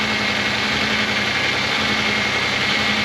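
A Honda engine runs steadily at idle, a loud continuous rumble with a faint hum on top, close by and with no voices.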